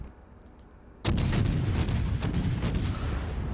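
The light cruiser Helena fires a salvo in World of Warships, a sudden loud boom that rolls into a sustained, rumbling barrage of overlapping gun blasts after a quiet moment.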